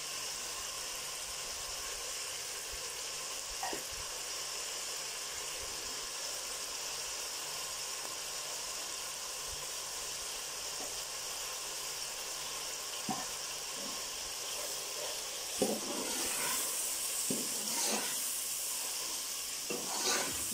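Masala with red chilli frying in a pan for black chickpeas, a steady close sizzle throughout with occasional stirring taps that grow busier toward the end; no talking.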